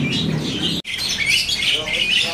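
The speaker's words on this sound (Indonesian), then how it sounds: "Di sini ada burung jalak" Bright, chattering starling calls fill the air, a busy mix of chirps and whistles close by, with a brief cut partway through.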